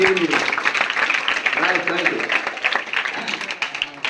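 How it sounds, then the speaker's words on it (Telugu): A crowd of students applauding steadily throughout, dense clapping with a voice briefly audible near the start. "మీకు అందరికీ ఒకసారి గట్టిగా చప్పట్లు కొట్టుకోండి"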